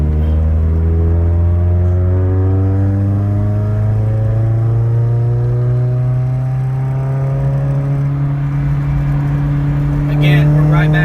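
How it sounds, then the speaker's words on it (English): A 1988 Honda Civic wagon with a JDM transmission, its engine droning loud and close as it downshifts into third gear, the engine note sliding steadily upward in pitch with a brief surge near the end. "we're going to downshift to third."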